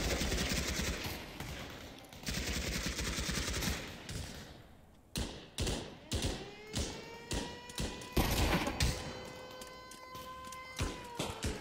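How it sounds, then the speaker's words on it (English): Pavlov VR grenades exploding, a run of heavy thudding blasts arriving one after another at irregular intervals after a stretch of dense rattling gunfire, moderately near, with no talk. "Loads of nades coming in."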